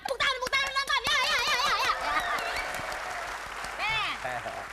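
Studio audience applause at an Indonesian TV talk show: a burst of clapping under overlapping voices and excited shouts, steady at first, then easing off before a brief final swell.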